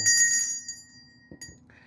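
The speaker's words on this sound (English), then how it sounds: "when we ring the bell" A single bright chanting bell ring at the start, its metallic tone lingering and fading, followed by a couple of soft knocks and a faint higher chime.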